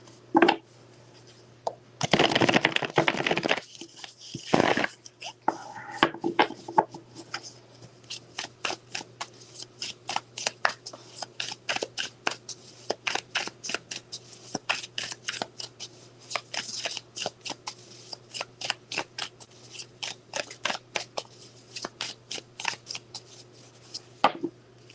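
Tarot cards are shuffled at close range in a long run of crisp, rapid riffles and taps, with a louder burst of shuffling near the start. There is no talking.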